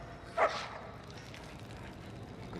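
A single short dog bark in the Mad Max video game, brief and moderately close, over a steady low rumble of game ambience.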